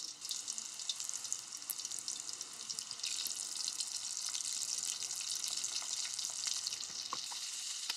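Potato-filled tortilla taco shells crisping in hot oil, a steady bright sizzle and crackle with scattered pops, close and continuous with no talking.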